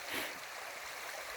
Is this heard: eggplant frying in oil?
no